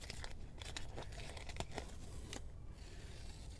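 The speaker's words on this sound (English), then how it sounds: "let's go and pull off the tape now" Masking tape is peeled away from a white Tesla seat, giving a close, steady tearing and crinkling with several sharp rips in quick succession.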